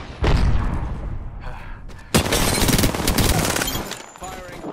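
Bursts of automatic gunfire from the battle royale video game Apex Legends, loud and sustained in two long volleys with a brief pause between, under occasional talk from a player.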